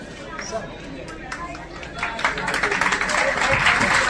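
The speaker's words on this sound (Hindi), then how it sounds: "स्वागत की इसी कड़ी में जोरदार तालियां बजती रहेंगी" A crowd at an outdoor Run for Unity welcome ceremony honoring Sardar Vallabhbhai Patel's 150th birth anniversary breaks into loud, dense clapping that swells from a murmur of background chatter and then holds steady, close and sustained.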